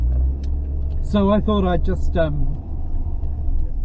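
Steady low engine rumble heard from inside a moving car, continuous throughout, with someone talking over it partway through.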